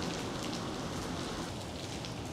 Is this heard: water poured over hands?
no